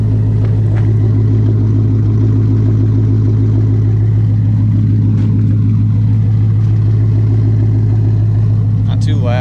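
A car with a cat-back exhaust, crossover X pipe and no mufflers or resonators idles steadily and close by, a deep, even rumble that stays fairly mellow throughout with a slight blip near the end.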